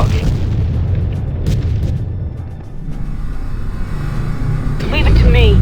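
Ground Control 2 battle sounds: deep booming explosions and rumbling gunfire under soldiers' radio chatter, with a heavier blast swelling near the end.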